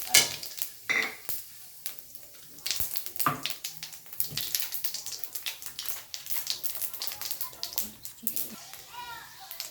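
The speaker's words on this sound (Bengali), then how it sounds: "এবার সেই মাছ ভাজা তেলের মধ্যে আমি দিয়ে দেবো শুকনো লঙ্কা আর জিরে ফোড়ন।" Dried red chillies and cumin seeds spluttering in hot oil left from frying fish, a crackling sizzle with sharp pops and stirring clatter, heard close and under a voice talking.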